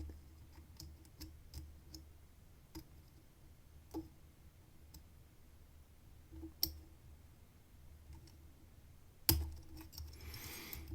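A lock pick taps at the pins inside a Rav Bariach LocXis lock, giving faint, sparse metallic clicks and ticks over a quiet background, with one sharper, louder click near the end.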